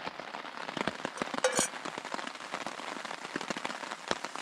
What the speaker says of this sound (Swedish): Väntar på att regnet ska sluta.